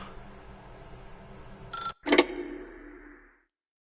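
A telephone rings in a video game: a brief electronic tone, then a sharper ring burst that fades out into silence.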